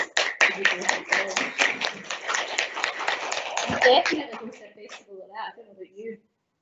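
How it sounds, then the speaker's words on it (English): Applause for two students at a Dunoon Grammar School entrepreneurship presentation: a burst of dense hand clapping that thins out and fades over about five seconds, ending with a few scattered claps. "a round of applause"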